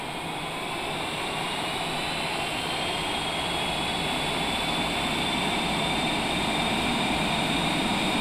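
Jet engines on a Cessna Longitude on approach hold a steady, loud, broad roar with a thin rising whine as the power is brought up, continuous and alone.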